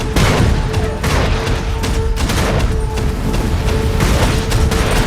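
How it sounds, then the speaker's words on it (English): Warship gun mounts fire in a sustained, dense barrage of booms in a wartime naval film soundtrack, loud and continuous across the whole stretch with no talk. "All mounts, fire at will."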